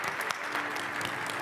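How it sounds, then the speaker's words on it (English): Applause from a debate audience at a university venue, a brief, dense burst of clapping that fills the whole moment without any speech. "Give yourselves a quick round of applause again."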